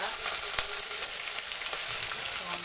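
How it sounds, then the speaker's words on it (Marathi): Chopped onion frying in hot oil in a home kitchen, giving a steady bright sizzle throughout with occasional soft stirring clicks. "ते चांगलं तळून घेणार आपला कांदा"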